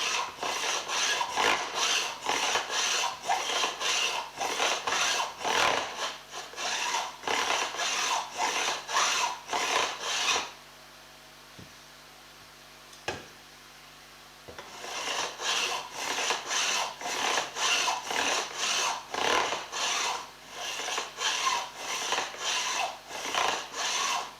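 Rhythmic rasping strokes of a file scraping banjo fret ends down into the wooden neck, steady back-and-forth passes, pausing briefly midway for a couple of light taps before resuming.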